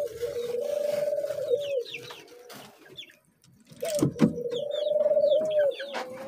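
Parrot chicks and birds call from inside a cage, with drawn-out tonal cries and softer chirps that pause briefly in the middle, then return at close range.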